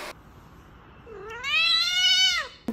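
A cat meows once: a single loud, drawn-out meow, rising and then sustained, heard close by in a home with a pet cat and dog.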